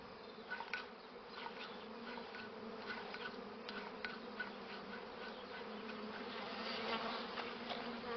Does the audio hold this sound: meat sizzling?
no